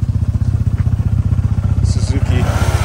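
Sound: two-stroke Suzuki motorcycle engine

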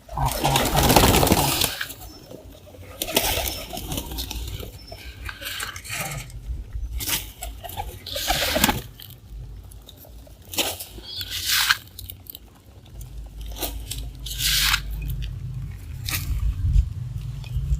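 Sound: pigeons eating grain

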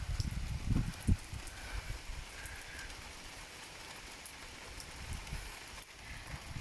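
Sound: rain falling outside

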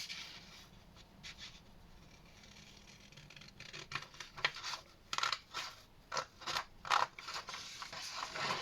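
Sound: cutting with scissors

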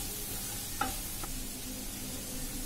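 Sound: stirring spices in a pan for masala dosa filling

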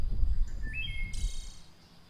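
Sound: bird calls

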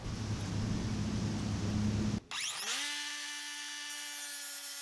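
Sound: Dewalt 3 inch 20V cut-off tool cutting aluminum trim profile

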